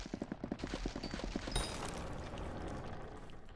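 Rapid bursts of video game gunfire and explosions in Hypixel Skyblock, a quick rattling volley followed by a heavy boom and a rumbling, crackling wash of noise.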